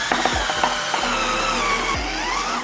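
Battery drill turning a spin swage tool on copper or aluminum pipe for AC and refrigerator work, a whirring spin with a few short bursts and a sustained run, close and fairly loud.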